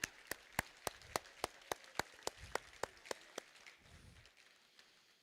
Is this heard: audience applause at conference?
yes